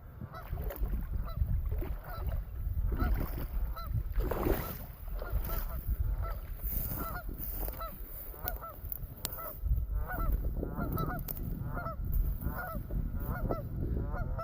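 A flock of geese honks repeatedly and close by, with overlapping calls rising and falling in loose bursts over a steady outdoor background and no talk.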